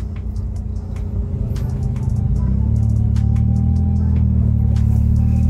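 A Daihatsu Xenia pulling away, its engine rumble rising and settling into a steady low drone heard from inside the car, with light clicks and rattles over the top.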